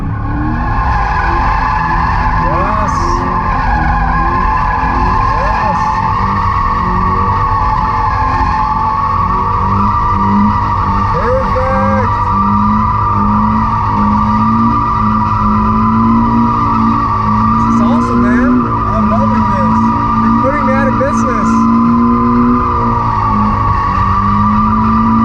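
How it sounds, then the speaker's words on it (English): A Toyota GT86 drifts with its engine droning steadily and tires squealing and skidding, a loud continuous roar running the whole time with no talk over it. "drifting a GT86"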